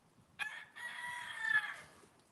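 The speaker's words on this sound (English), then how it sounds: "Oh shoot! I have a chicken out." A rooster crows once nearby in a drawn-out call, while a chicken clucks softly underneath. The setting is a backyard flock after an ice storm, and no one speaks.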